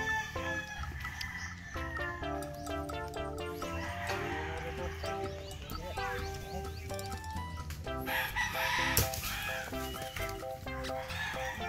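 Chickens and a rooster in a yard cluck busily and crow repeatedly at close range, over about twelve seconds of continuous fowl noise.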